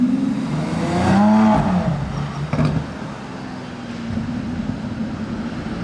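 A Lamborghini Aventador SVJ Roadster passes in a convoy of supercars on the streets of Monaco, its engine rising and falling as it goes by at close range, loud over steady traffic noise.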